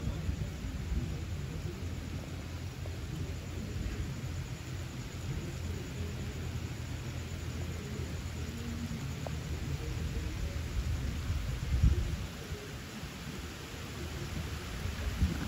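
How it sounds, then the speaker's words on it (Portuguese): Heavy July rain falls steadily at Jaguaribara near the Castanhão reservoir, a dense, even hiss, with one dull low thunder thump late on. "Chuva engrossando"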